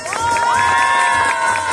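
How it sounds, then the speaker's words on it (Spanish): Festival crowd in Firavitoba, Boyacá, cheering and clapping for a couple at a cultural coronation, with a loud steady roar and whistle-like tones above it. "aplausos por esta pareja"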